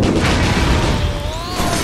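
A barrel blows up in the shooter game Stranglehold, giving a short, loud, rumbling boom with a crackling tail that fades over about two seconds.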